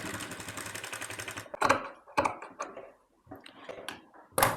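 Sewing machine stitching the sides of a baby's yoke frill frock, running in several short bursts with brief pauses between them, fairly close and moderately loud, with no voices.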